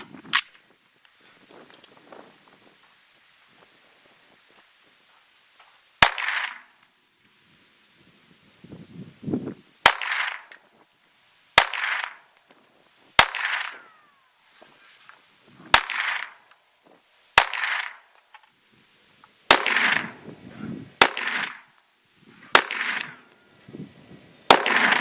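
AR15 .223 rifle gunshots outdoors: about a dozen sharp, loud cracks spaced a second or more apart, each trailing a short echo, with faint background sounds between shots.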